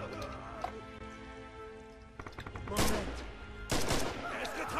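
Rifle fire in Red Orchestra 2, a Stalingrad-set World War II shooter: two loud, sharp reports a second apart ring out over a busy battlefield bed, with distant crackling gunfire before them.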